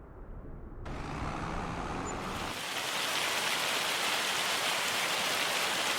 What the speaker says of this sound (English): Hey, it's March and it's raining.